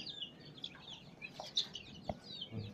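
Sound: chicks clucking

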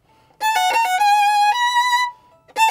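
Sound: violin finger pattern in first position

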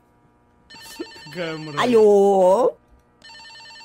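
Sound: phone ringing in video game Escape the Backrooms

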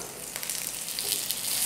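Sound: hara bhara kababs frying in oil on medium gas

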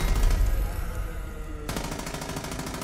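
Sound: light machine gun firing in the video game Far Cry 5

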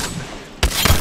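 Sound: gunfire in the video game Apex Legends

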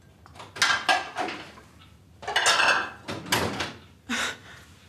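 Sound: plates being handled

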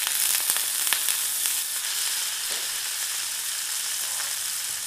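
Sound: french fries frying in oil with butter

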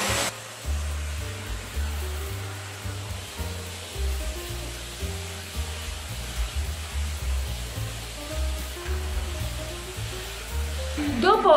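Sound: vacuum cleaner running with accessory, cleaning Winix air purifier filters

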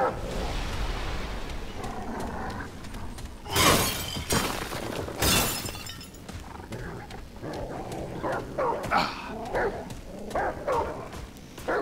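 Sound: dog barking and whimpering in the video game Remnant: From the Ashes

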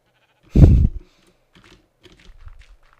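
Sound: sheep bleating in Minecraft video game

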